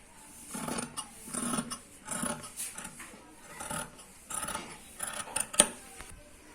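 Scissors cut fabric for the sleeve of a long umbrella frock in a tailoring session, giving a quiet series of close, irregular snips and crisp scrapes of cloth.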